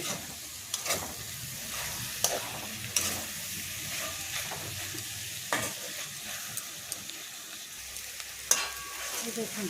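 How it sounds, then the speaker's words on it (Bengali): Soyabean being stirred with garam masala powder in a hot sizzling pan, a steady frying hiss broken by a few sharp scrapes and clicks of the spoon against the pan. "একটুখানি গরম মশলা গুঁড়ো নাড়াচাড়া করে নিতে হবে"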